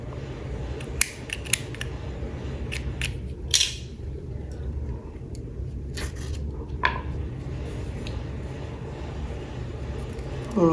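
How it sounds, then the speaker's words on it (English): Scissors snip crochet yarn several times, giving short, sharp, close cuts spaced irregularly over a low background hum. "and then cut off my yarn."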